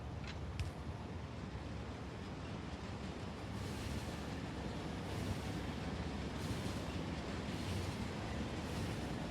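A Factorio train runs along its line as a steady, broad rushing rumble that holds even for several seconds, with no speech over it.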